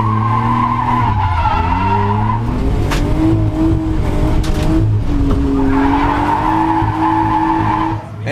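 A BMW E36's engine roars and revs while tires squeal in long, sliding drift screeches, loud and close, continuing throughout.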